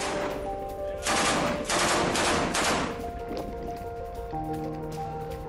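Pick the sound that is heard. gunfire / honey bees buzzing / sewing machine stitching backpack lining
gunfire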